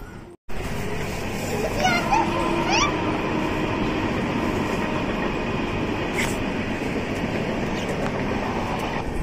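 A train rumbles past close by, a steady heavy roar of rolling railroad cars lasting throughout, with faint voices now and then underneath.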